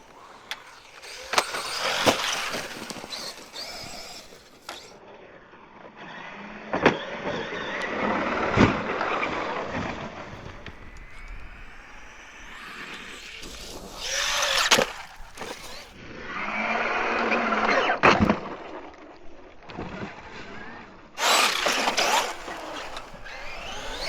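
Traxxas Maxx 4S RC truck on full throttle, its electric motor whining in loud rising and falling bursts as it passes close by, with brief quieter gaps between runs.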